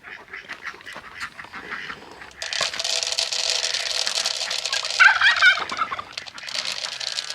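New turkeys in a farm pen, a dense chorus of gobbling and chattering calls from many birds, loud and close, starting faintly and swelling into a sustained racket.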